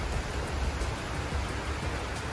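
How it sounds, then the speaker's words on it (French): Steady heavy rain hissing outside during a storm, a dense continuous wash of noise with wind in it, no voices. "c'est la tempête dehors"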